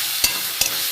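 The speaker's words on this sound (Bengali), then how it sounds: "আমি বটবটিটা একটু ভালো করে ভেজে নেব" A steady frying hiss from broad beans cooking with salt and turmeric in a pan, with two quick spatula taps against the pan in about a second.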